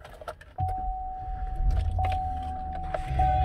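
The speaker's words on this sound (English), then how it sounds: "Let me just start this vehicle." A 2017 GMC Yukon SUV starts up with a sudden low engine rumble after faint clicks and rattles, then settles into a steady idle with a thin tonal whine and light clinks close by.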